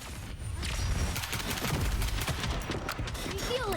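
Dense rapid gunfire from a DMR rifle in the shooter game FragPunk rattles steadily throughout, close and loud.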